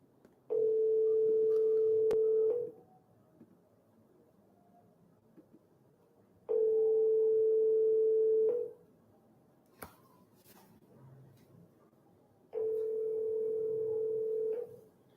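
An outgoing telephone call rings out, with three evenly spaced ringback tones, each about two seconds long and separated by longer quiet gaps, heard alone on the line.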